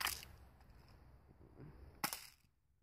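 A BB gun fires at an old laptop: two sharp, brief shots, one at the start and one near the end, with a faint rattle after the second, over quiet background.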